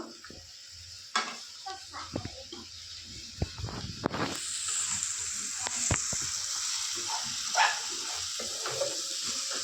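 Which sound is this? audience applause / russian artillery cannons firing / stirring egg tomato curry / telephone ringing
stirring egg tomato curry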